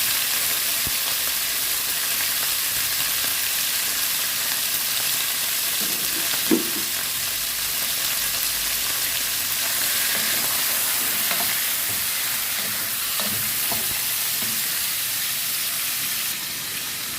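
Six chicken wings with tomato frying in a pan, a continuous loud hissing sizzle with occasional soft stirring knocks, steady from start to finish.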